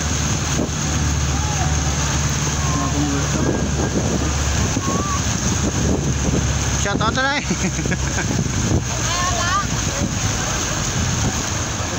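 Floodwater overflows and rushes through a flooded area of Bacolod in a steady, loud broadband roar with wind buffeting, while people talk and shout over it.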